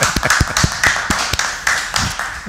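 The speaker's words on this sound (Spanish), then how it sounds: "Un aplauso." A church congregation at a Mother's Day Mass claps in a dense, uneven burst of hand claps, close and fairly loud, with no voices.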